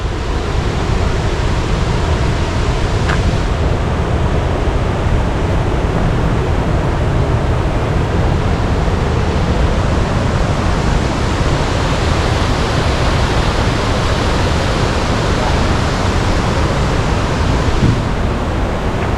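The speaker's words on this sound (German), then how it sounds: "Das klingt doch nach jeder Menge Wasser, oder?" Rushing water from a waterfall along the Appalachian Trail, a loud, steady broadband roar that fills the whole stretch without pause or change.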